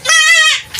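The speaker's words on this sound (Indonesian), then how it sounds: "lihat iki kambing-kambingnya, Mas" Goats bleat on a small Tulungagung goat-fattening and breeding farm, one loud, close, quavering bleat with clear harmonics sustained for about half a second before trailing off.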